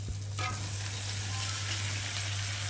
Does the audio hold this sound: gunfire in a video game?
no